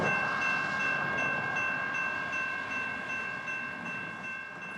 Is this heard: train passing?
yes